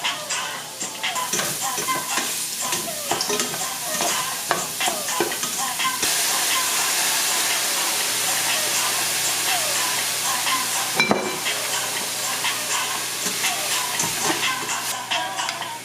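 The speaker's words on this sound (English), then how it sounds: "Fry out these mushrooms." Mushrooms frying in a pan give a steady, close sizzle and hiss with scattered stirring scrapes and clinks throughout, no voices over it.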